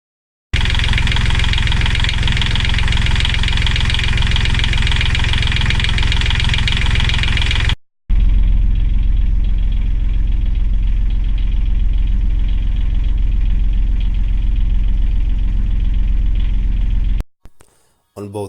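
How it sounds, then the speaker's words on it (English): A three-cylinder 20 hp Beta Marine diesel engine on a Sedna 30 yacht idles with a steady, loud, rumbling knock, briefly cut off midway, then resuming with a deeper throb until it stops. "Let's have a look at the engine running so you can hear it for yourself."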